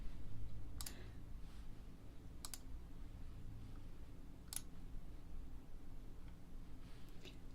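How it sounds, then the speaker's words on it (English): Computer mouse clicking up close in a quiet binaural room, a handful of sparse, crisp little clicks spaced a second or two apart over a soft background hiss. "You can hear the delightful sound of my mouse clicking."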